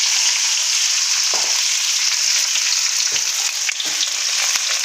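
Chopped onions frying in hot oil with bay leaves for an Assamese mutton curry, a loud continuous sizzle with a few brief stirring scrapes breaking through, no voices.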